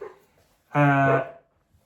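A single short dog bark, close and clear, standing alone against near silence.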